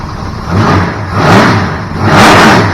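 A car engine fitted with a newly installed AED HO 750 carburetor revs loudly up and down in three swelling pulses over a rough idle, recorded close by with no talking.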